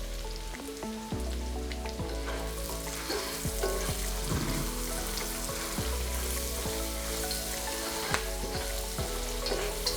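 Turmeric powder and salt hitting hot oil in a pan for lemon rice produce a steady crackling fry with occasional stirring scrapes, set against background music with no speech.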